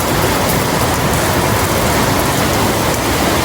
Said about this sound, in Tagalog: nabutan tayo ng ulan pero okay lang